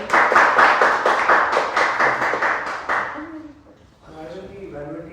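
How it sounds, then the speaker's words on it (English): An audience at a Toastmasters session applauds in a burst of steady clapping for about three seconds, then fades as a voice begins speaking. "Please give him a big round of applause."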